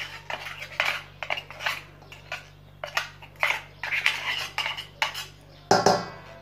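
Spoon stirring a ground peanut and cocoa mixture with sesame in a bowl, steady repeated scraping and clinking strokes, close and clear, ending with a louder knock against the bowl.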